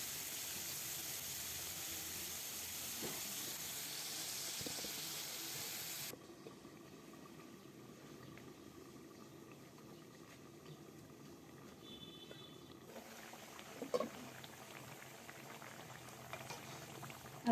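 Bata fish curry simmers in a pot with a continuous bubbling hiss that drops to a quieter simmer partway through, broken by a couple of faint clinks; no talking.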